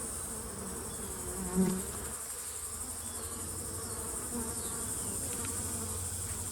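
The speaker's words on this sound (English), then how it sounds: "There's a few bees on that leaf right there, but not very many." Steady insect buzzing fills the air, many bees droning nearby at an apiary, with a soft hum underneath and no voices.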